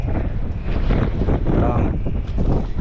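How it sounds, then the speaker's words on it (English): Wind buffeting the microphone outdoors, a steady low roaring rumble with gusty swells throughout, loud and close, no speech. "It's windy, I'm sorry."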